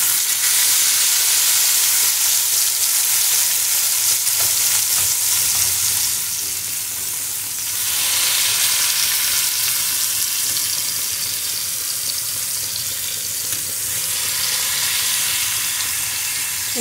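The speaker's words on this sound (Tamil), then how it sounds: "இப்போ பாருங்கள், 2 பக்கமும் நல்லாவே ஃப்ரை ஆகிடுச்சு." Fish fillets sizzle steadily in hot oil in a frying pan, a continuous broad hiss with brief louder bursts as pieces are turned, with no voices present.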